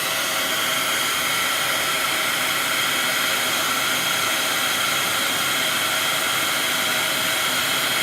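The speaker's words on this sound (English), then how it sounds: "That puts a barrier between the air that comes out of your heat gun and the powder." Heat gun blowing hot air over embossing powder in a craft project, a loud, constant whooshing roar of airflow held steady from start to finish, with no voices over it.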